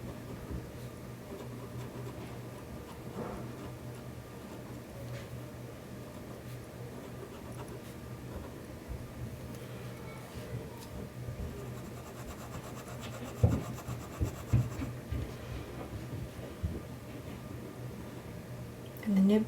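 The steel nib of an Esterbrook Jr pocket fountain pen drags across paper in a soft, continuous scratchy rub, faint and close, with occasional louder strokes near the end.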